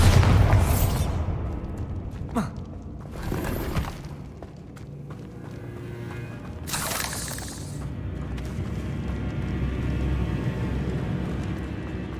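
A Bombarda spell goes off in Hogwarts Legacy with a heavy boom right at the start. Sharper blasts and crackling debris follow at intervals, then a lower rumbling tail.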